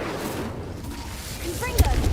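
A fire spell is cast in the video game Hogwarts Legacy, with a short, loud fiery burst near the end over a steady background of game sound and voice.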